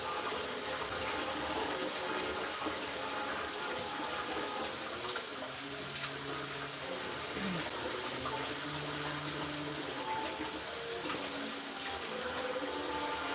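Mushrooms rinsed under a running kitchen tap, a steady, close rush of water that holds evenly throughout with slight changes as the stream hits the mushrooms, no talking.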